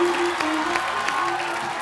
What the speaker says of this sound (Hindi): आप सबकी जोरदार तालियों के बीच इनवाइट करना चाहता हूँ the very beautiful and talented Shraddha Kapoor